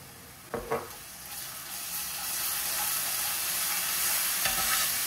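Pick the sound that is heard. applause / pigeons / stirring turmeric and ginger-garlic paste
stirring turmeric and ginger-garlic paste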